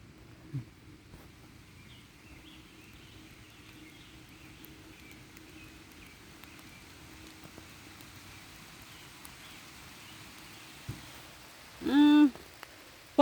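Light rain patters steadily in the background, soft and even, with a short louder tonal call breaking in near the end.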